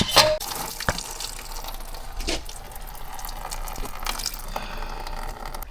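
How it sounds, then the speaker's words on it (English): Coolant drains out of a BMW E36 radiator into a pan, giving a steady, close trickle and splash of liquid broken by a few sharp clanks. "I gotta empty out the radiator now by removing all the coolant from this one"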